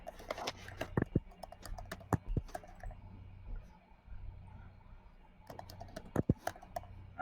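Someone types on a computer keyboard in irregular bursts of close, crisp key clicks, pausing in the middle before a final flurry.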